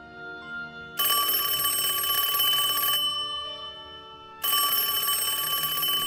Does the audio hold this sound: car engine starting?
no